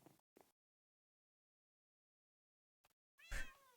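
A Minecraft cat meows in the video game, two short faint calls, then a brief blip and a clearer, louder drawn-out meow at the end, with no talk.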